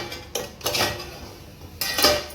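Elephant foot yam (suran) slices being flipped in a pan for an Agri-style dish, with several sharp metallic clatters of a utensil against the pan and quieter scraping between them.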